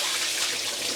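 Water rushes steadily as soaked potatoes are drained for an Italian octopus salad, a continuous bright splashing pour for about a second, close and alone.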